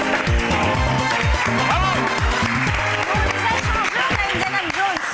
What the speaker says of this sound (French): Allez, applaudissements pour les messagers.